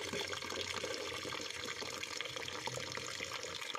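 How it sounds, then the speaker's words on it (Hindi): Water pours steadily onto soaking rice for biryani, a continuous close splashing and running sound with no speech. "चावल के अंदर हम डालेंगे पानी"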